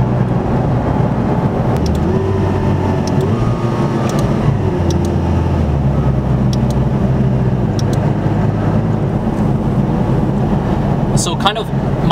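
A McLaren 570S Spider sports car driving with the roof up, its engine and road noise a steady close drone throughout, with a few brief sharper sounds near the end.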